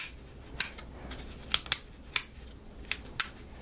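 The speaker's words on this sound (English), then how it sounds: "Should get some satisfying clicking on that." The wooden mechanism of a UGEARS tourbillon table clock makes sharp, crisp clicks, about six of them at uneven intervals, close up against a quiet background with no voices.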